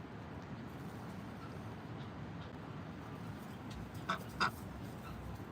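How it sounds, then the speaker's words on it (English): A duck at an animal sanctuary, surrendered from a feed store, gives two short, faint quacks near the end against a quiet, hissy background. "I hear you, quack quack."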